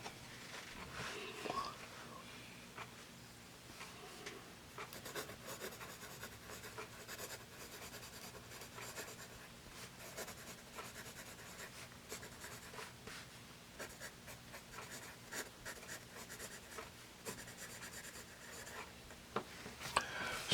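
A matte black America's Finest No. 2 round pencil being sharpened, a quiet, close scraping and grinding that runs continuously for about twenty seconds with small irregular bursts.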